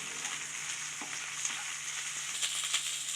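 Curry leaves sizzling in hot oil in a pan while potato rice is cooked, a steady bright crackle with occasional stirring scrapes, close and alone.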